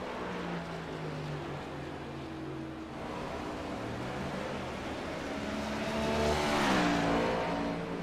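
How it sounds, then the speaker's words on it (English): A stock car racing engine at Phoenix droning below full power after an earlier incident, a steady, moderately distant tone that swells toward the end with shifting pitch and no voices. "it definitely does not sound like that car was at full power"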